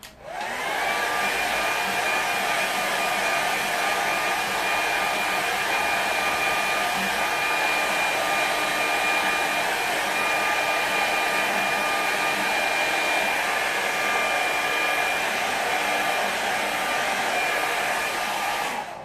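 A hair dryer blows steadily on a watercolour river scene with a fisherman, a loud continuous whir with a high tonal whine that runs unbroken for the whole stretch, close by, with no talking.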